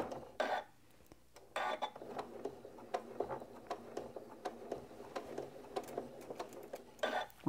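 A sewing machine stitches slowly through several thick quilt layers and joined seams, its needle ticking in a rapid steady rhythm with brief louder mechanical bursts and small clunks, close up, no talk.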